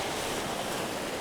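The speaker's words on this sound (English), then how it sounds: "I'm trying to take a time lapse of these waves crashing here" Ocean waves crash onto the rocky shore of Madeira under stormy skies, forming a steady, close, broadband roar of surf with a little wind noise and no let-up.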